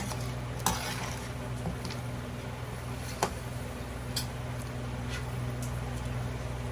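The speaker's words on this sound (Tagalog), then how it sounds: "So, hayaan po natin siyang kumulo ng 30 minutes." Chicken feet simmering in a pot, a steady low bubbling hiss with a few sharp clicks and ticks scattered through it, close and even, with no voices.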